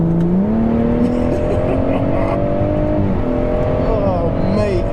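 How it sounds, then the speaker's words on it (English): BMW M140i driving a lap on a race track, steady engine drone with shifting tones as it accelerates and eases off, loud and close throughout, with people talking over it. "Have a little cool down lap now, Reg."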